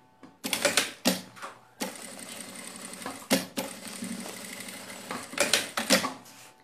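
Sewing machine stitching a bag made from a milk carton, several loud bursts of rapid mechanical stitching separated by short pauses and clicks, close up.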